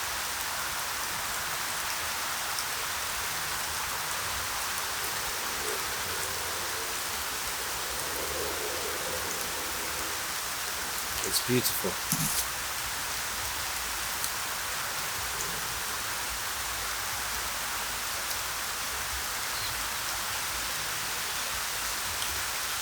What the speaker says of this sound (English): Hopefully you can hear the sound of the rain in this video.